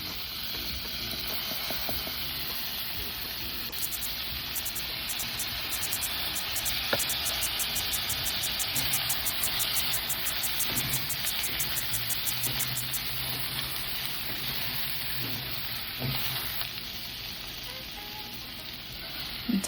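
Garlic fries in an Instant Pot with a steady, close sizzle that lasts throughout. Faint stirring scrapes sound beneath the frying, and no one speaks.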